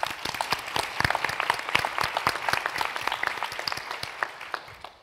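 Applause from an audience at a journalism forum session, steady dense clapping from many hands that fills the room at moderate loudness and fades toward the end, with no talk over it.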